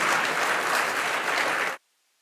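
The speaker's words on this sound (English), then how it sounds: "Round of applause, please." An audience applauds loudly at a birthday celebration for a university chancellor, the dense clapping holding steady for nearly two seconds before cutting off abruptly into silence.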